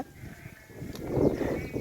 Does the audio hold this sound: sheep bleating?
yes